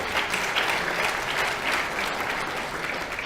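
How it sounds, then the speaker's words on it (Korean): Sustained, dense clapping fills a hall at a party national committee meeting, an even wash of applause from a large gathered audience with no voices standing out. "여러분 박수 한번 보내주시기 바랍니다"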